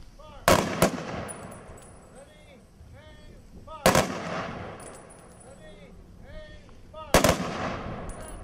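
Three sharp rifle volleys from a military firing party saluting the fallen at a Wreaths Across America ceremony in Keokuk, each crack loud and echoing outdoors, evenly spaced a few seconds apart, with birdsong and faint ambience between.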